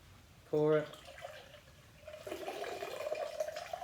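A cocktail, a Red Snapper, poured from one mixing tin into another: a brief voiced sound comes first, then a steady, fairly soft liquid stream with a metallic ring runs to the end.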